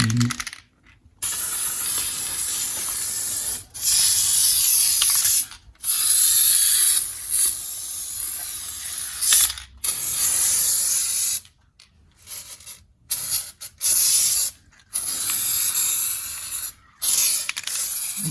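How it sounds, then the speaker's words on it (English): Aerosol lubricant is sprayed onto garage door springs in a series of loud, hissing bursts of a few seconds each, separated by short silences and sometimes cut off abruptly. "I'm going to lubricate the garage door springs"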